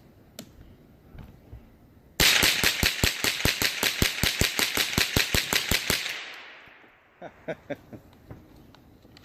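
Rapid gunfire while testing an HC3R magazine, a fast string of about twenty sharp shots in roughly four seconds followed by a fading echo, then a few lighter mechanical clicks.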